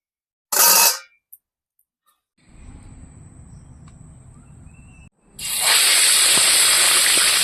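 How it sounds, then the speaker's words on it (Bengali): A fish head goes into a hot frying pan: a short loud burst, a quiet stretch with a low rumble, then a loud, steady, broad sizzling hiss that fills the final two seconds. "নামিয়ে আমি আগে মাছের মাথাটা ভেজে নেব"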